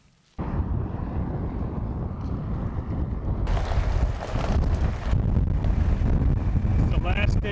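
Strong gusting wind buffets an open outdoor spot among big hardwood trees on the last day of duck season, as a cold front moves in; a steady loud roar with rumbling microphone buffeting, rising even stronger partway through.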